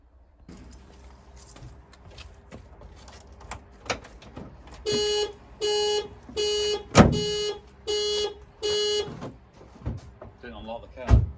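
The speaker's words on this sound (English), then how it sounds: "At least I know the alarm works." A Ford Mondeo's alarm sounds in a run of six loud, evenly spaced electronic honks, each held about half a second, with faint handling noise and a short voice just before and after.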